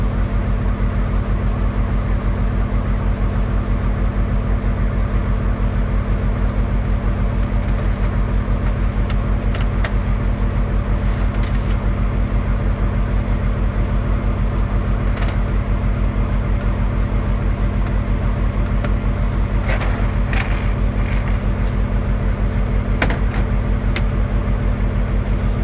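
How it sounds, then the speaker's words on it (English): A truck's air brake governor cuts out during a pre-trip inspection. A steady, loud idling engine rumble runs throughout, and short bursts of air whoosh in the later part. "Cutout should be between 120 and 130 psi, and we're going to hear a lot of whooshing sound."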